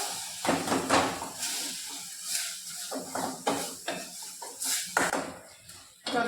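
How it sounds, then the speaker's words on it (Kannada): A spoon scrapes and clinks against a pan while chilli powder is stirred into a cooking mixture, irregular metallic strokes coming close and fairly quiet, with a faint sizzle between them. "ಖಾರ ಪುಡಿ ಹಾಕ್ಬಿಟ್ಟು ಸ್ಲೋತ್ನಾಗೆ ಮಿಕ್ಸ್ ಮಾಡ್ಕೋಬೇಕು"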